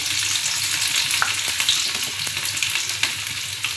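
Crushed garlic fries in hot oil for a tempering, giving a steady dense sizzle with scattered sharp pops and crackles, close and fairly loud, with no talking.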